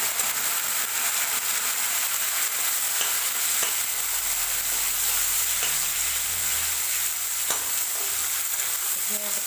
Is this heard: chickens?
no